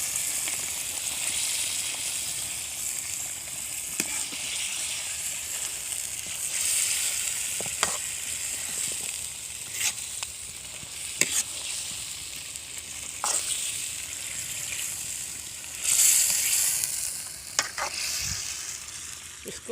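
Chicken tikka karahi with tomatoes sizzles steadily in a pan, a continuous close frying hiss broken by occasional clicks and scrapes of stirring, with no voices.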